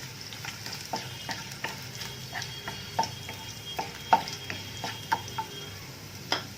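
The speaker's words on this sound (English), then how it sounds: "curry leaves, mix this well" Curry leaves stirred in hot oil for spinach dal give a soft, steady sizzle with light, regular clicks of a spoon against the pan, fairly quiet and without voices.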